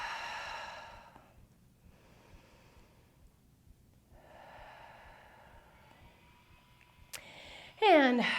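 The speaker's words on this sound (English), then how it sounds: "And breathe." Slow, audible breaths during a Pilates plank session, two long airy exhales separated by a quiet pause, followed by a brief sharper sound near the end.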